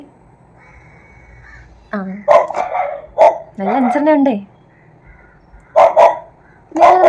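A dog barks in a few sharp bursts close by, with pauses between them and a person speaking briefly.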